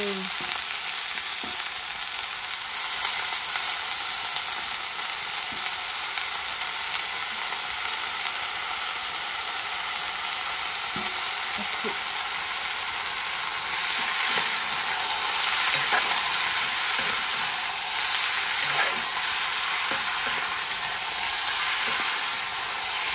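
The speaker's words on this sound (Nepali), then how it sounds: "अब यहाँ भुट्न लाग्यो हाम्रो अलवेज फेभरेट सब्जीमा" Vegetables sizzle and crackle steadily in a hot pan for a long stretch, with occasional scrapes and taps of stirring, close and loud.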